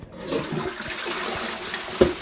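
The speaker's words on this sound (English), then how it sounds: "Just flush." A toilet flushes close by, a loud steady rush of water sustained throughout with gurgling and a brief splash near the end, no talking.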